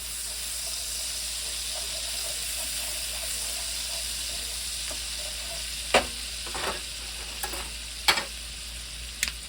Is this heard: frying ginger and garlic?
yes